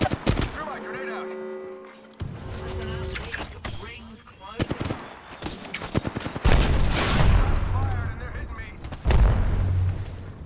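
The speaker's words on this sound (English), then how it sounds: "Threw my grenade out." Grenade blast and bursts of gunfire from the Apex Legends video game, with sharp repeated shots and heavy booms building in intensity, loud and close, mixed with tonal game music and voices talking in places.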